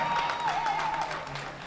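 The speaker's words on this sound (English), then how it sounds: "Coming out to big applause" A crowd at a European classic powerlifting championship applauds as a woman lifter walks out, a soft, steady clatter of clapping heard from some distance, with a faint tone running through it.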